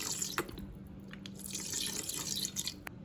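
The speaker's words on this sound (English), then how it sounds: "I measured 2 cups of water, and I'm just going to pour that in" Water pours and splashes into a Ninja Foodi pot, a steady trickling stream with small drips, close and moderately quiet, with no talking.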